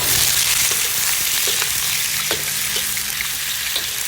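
Prawns stir-fry with ginger and garlic in a hot pan, a loud steady sizzle filling the whole stretch, with occasional scrapes and taps of a utensil against the pan.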